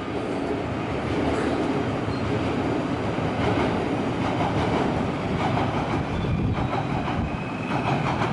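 Steady, loud rumble and rushing roar of a passing Eurostar E320 (Class 374) high-speed train built by Siemens, with faint rhythmic clatter of wheels on track throughout, at Paris Gare du Nord.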